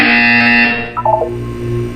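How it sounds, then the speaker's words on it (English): Game buzzer from Portal 2: a loud sustained electronic buzz with harmonic tones lasting about a second, then a brief warbling electronic flourish as it cuts off, leaving a lower hum. "When you hear the buzzer, look down at the floor."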